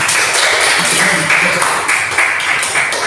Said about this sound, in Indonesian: tepuk tangan kalian semua